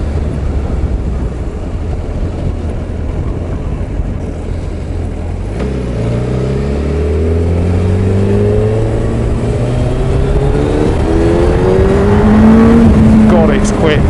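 A standard-spec Suzuki Hayabusa motorcycle accelerates hard, its engine note climbing through rising gear sweeps over steady wind roar, loud and close from the rider's position.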